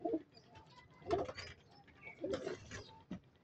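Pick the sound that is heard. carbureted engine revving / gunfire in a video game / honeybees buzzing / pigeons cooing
pigeons cooing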